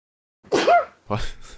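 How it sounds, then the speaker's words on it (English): One close, loud human sneeze with a sharp intake and burst, followed by a brief spoken word right after. "Now I've got to sneeze."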